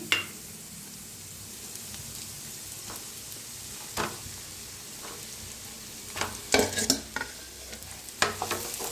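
Brinjal pieces roasting in a pan are stirred with steady scraping and a low sizzle, ending in a cluster of louder clattering scrapes; no one speaks.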